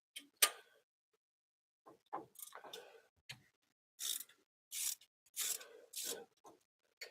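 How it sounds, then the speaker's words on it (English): A wrench clicks and ratchets in short, close bursts while loosening bolts on a limo, with several separate rasping strokes spaced out between quiet pauses. "Use our trusty Jeff wrench this time"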